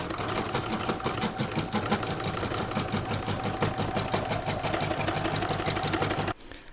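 An embroidery machine stitches a lined Santa bag in the hoop, producing a fast, even mechanical rattle of needle strokes that runs steadily, close and fairly loud, until it stops abruptly near the end.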